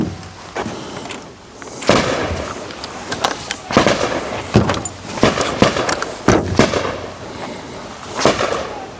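An Inter Ordnance 9mm carbine fires standard STS cartridges, about eight loud, sharp close-range shots spaced irregularly, each followed by a short ringing decay.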